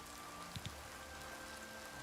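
Steady rain falls in the Oblivion game world, a continuous soft hiss with a few brief drop-like taps, heard alone at low level.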